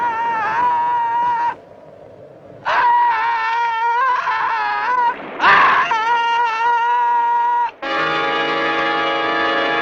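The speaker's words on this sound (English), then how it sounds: "Listen to those screams." A man screaming as he is eaten alive in the 1964 horror film The Flesh Eaters: loud, strained, wailing cries come in several long bursts separated by short gaps, close and dominant.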